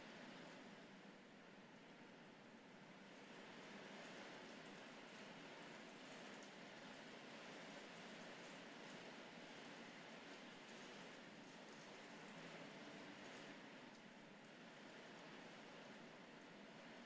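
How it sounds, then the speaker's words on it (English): Rain falling outside, a steady, faint hiss of drops that stays even and unbroken throughout, with no voices over it. "maybe to listen to the rain outside"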